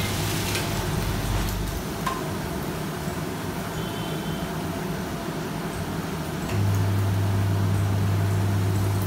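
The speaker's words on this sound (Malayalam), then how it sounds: "ഇനി ഇത് ഫ്രൈ ചെയ്യാം." Noodle-wrapped bread and cheese pops fry in hot oil, a dense, steady sizzle and crackle that runs throughout and grows a little louder near the end, with no talking.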